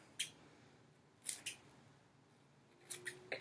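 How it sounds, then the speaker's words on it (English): Scissors snip through plastic bottle strips being trimmed into squid arms, about six sharp crisp cuts in small clusters, close and clear against a quiet background. "Trim them up a little bit."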